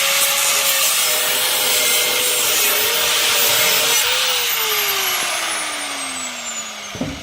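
Saw cutting through a car's exhaust pipe to remove the muffler, a steady loud rasping grind lasting throughout, with a sliding tone that gradually drops in pitch and a sharp clank near the end.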